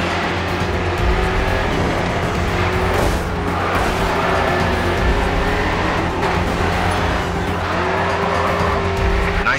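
Race cars in the Grid 2 racing game roar with a loud continuous engine drone, tires squealing and skidding through corners, dense and close throughout with no voices.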